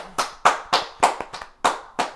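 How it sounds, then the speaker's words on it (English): Eight sharp claps ring out at an uneven pace, close and distinct, sounding like a small group or a single pair of hands rather than a large crowd. "everybody give Jordan a round of applause"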